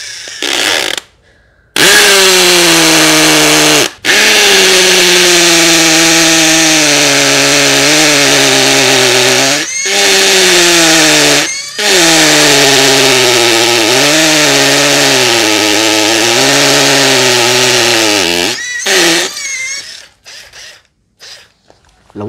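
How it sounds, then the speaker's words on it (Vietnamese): A Japanese cordless drill set to hammer mode bores into a cast cement sidewalk brick. It makes loud, rattling, whining bursts in several long runs, separated by brief stops, and the pitch shifts as the bit bites. "Giờ mình khoan thử cái cục gạch đây, gạch nên lắc vỉa hè nha anh em."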